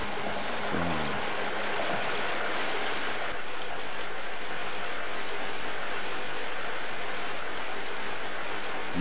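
Rushing water current in the Half-Life: Blue Shift video game, a constant broad hiss and roar of flowing water that stays loud and unbroken throughout, with a short tonal blip near the start.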